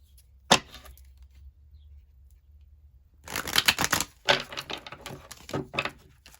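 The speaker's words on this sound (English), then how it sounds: "I feel like I'm shuffling the cards wrong for some reason." A deck of tarot cards snaps once, then after a pause is shuffled in quick riffling bursts, close and crisp in a quiet room.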